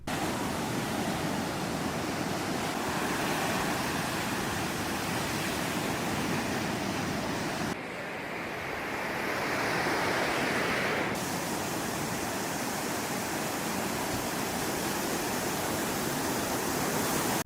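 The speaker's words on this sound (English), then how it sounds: "You guys really enjoyed the glowing blue waves from the last episode, so here's some more footage." Glowing blue bioluminescent ocean waves break on a shore in a steady, loud wash of surf, with a brief dip in the roar partway through before it builds back. No voices.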